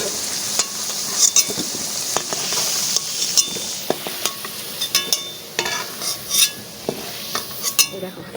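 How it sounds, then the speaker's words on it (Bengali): Potatoes frying in oil in a pan over a fire, a loud continuous sizzle with repeated clinks and scrapes of a spatula stirring against the metal. "এই দেখো আলু কি সুন্দর লাল লাল করে ভেজে নিচ্ছে আর সুন্দর আগুন জ্বলছে"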